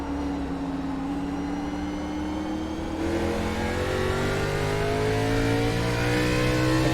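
A K&N Series stock car's engine revs up steadily off a corner in a racing video game, its droning note climbing continuously and loud throughout.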